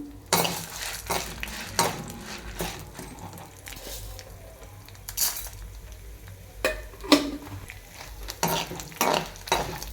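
Dried red chillies and urad dal frying in oil in a home kitchen pan, with soft sizzling under repeated clinks and scrapes of a stirring spoon against the metal, close and moderately loud.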